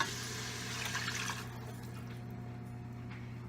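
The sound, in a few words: water poured into cooking pot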